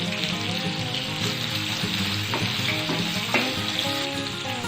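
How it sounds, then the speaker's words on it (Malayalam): Four green chillies go into onions already softened in hot oil, the base of a fish masala; a loud, steady sizzle of frying runs nonstop throughout, close up, with no talking. "അപ്പൊ ഇതിലേക്ക് നമ്മൾ 4 പച്ചമുളകാണ് ഇടുന്നത്."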